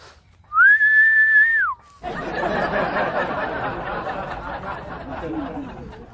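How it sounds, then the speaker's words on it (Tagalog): A single clear whistle from people flying a kite holds a steady note for about a second, then a noisy wash of chatter and wind-like sound carries on. "Sipol muna tayo mga kalitar. Samahan nyo kaming sumipol."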